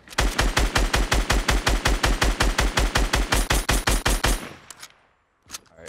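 Fortnite Battle Royale gunfire: a long, evenly spaced string of about twenty loud automatic shots in quick rhythm, cutting off into near silence before one last faint crack.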